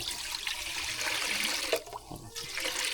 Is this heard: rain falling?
no